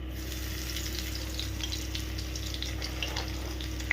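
Nigella seeds and garlic sizzling in hot oil over a low flame, a steady, fairly quiet frying hiss with faint crackles and a low background hum, nearby and without voices.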